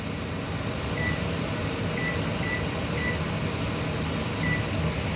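A stove timer is set with a series of short, high electronic beeps spaced about a second apart, heard over a steady loud hum of kitchen appliances.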